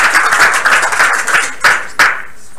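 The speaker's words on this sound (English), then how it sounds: "a round of applause for all you guys" Audience applause at a hackathon presentation event, a dense wash of clapping that thins out, ending with two sharp isolated claps near the close.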